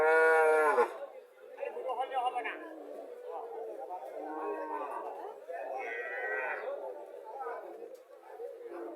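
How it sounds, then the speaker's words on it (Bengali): Sahiwal cattle with a calf at a livestock sale: one loud, close moo at the start, then a busy stretch of people talking nearby. "বাছুরটা সাইওয়াল জাতের বাছুর।"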